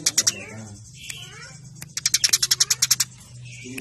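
House sparrows chirp in quick bursts on a bird-training recording, with clustered bright calls at the start and a fast run of a dozen or so sharp, close chirps midway, over a low background hum.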